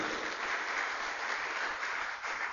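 A church congregation gives a round of applause to God during a service, a dense, even wash of many hands clapping at a moderate distance, sustained throughout with no voices on top.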